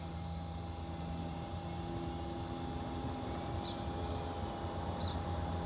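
FPV drone in flight, a steady loud whining motor drone with constant propeller hum and slight pitch shifts, close and continuous without pauses.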